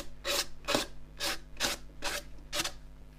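Strokes of 240 grit sandpaper rub across a turned claret ash natural-edge bowl, six rhythmic rasping sweeps close up over a low steady hum, with no talking.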